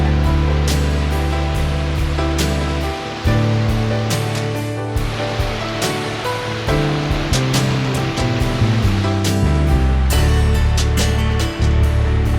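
Loud, steady rushing water of Stony Kill Falls roars throughout, a constant broad wash close by with brief surges and dips.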